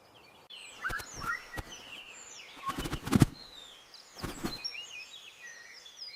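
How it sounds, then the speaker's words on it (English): Birds call and chirp in dense rainforest, several short calls and twittering notes scattered across the moment, moderately near, with a soft rustle and no voices. "Birds are often easier to hear than see in dense forest."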